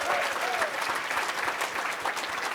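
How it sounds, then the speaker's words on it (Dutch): Large indoor crowd applauding the 2015 sports team of the year at a sport and business awards evening, dense continuous clapping, loud and close, lasting the whole stretch. "En dan nog een keer een heel groot applaus voor de sportploeg van het jaar"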